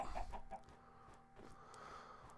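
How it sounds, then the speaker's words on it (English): Chickens cluck in a survival video game, a few short clucks near the start, then fading into a quieter ambient wash. "Got a bunch of chickens down here staring at us."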